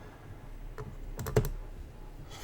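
A handful of quick computer keyboard keystrokes, a short close burst of clicks near the middle while numbers are entered, otherwise quiet with no talk.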